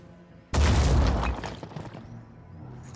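Weapon fire in the Blood and Titanium video game: one loud, sudden booming blast that rumbles for about a second, then decays into a crackling tail.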